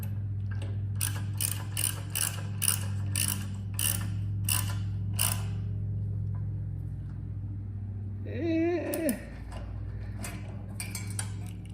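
A ratchet clicks in quick repeated bursts tightening bolts into aluminum on a riding mower, close and crisp over a steady low engine-like hum, followed by a metallic scrape and a few more scattered clicks.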